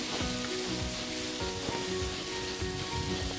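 Green chillies and salt sizzling as they sauté in a pan of mutton potato kuzhambu base, a steady close crackling hiss throughout with faint stirring.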